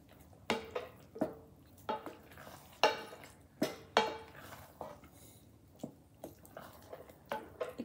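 A spoon stirs cooked millet and moong dal soup in a pot, with repeated wet scraping and sloshing strokes at an irregular, roughly half-second rhythm, close and fairly quiet with no talk.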